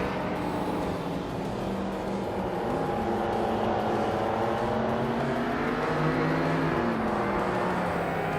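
Lamborghini Diablo cars racing on the Hawaii track in a racing video game, with a continuous loud, layered engine drone whose pitch rises and falls as several cars rev and shift together.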